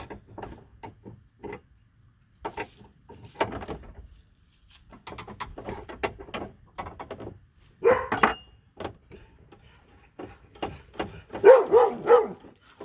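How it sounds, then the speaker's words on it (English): A dog barks in scattered bursts at a distance, irregular and fairly faint, with a few clunks nearby. "That's our dog Hobbs chasing birds in the background"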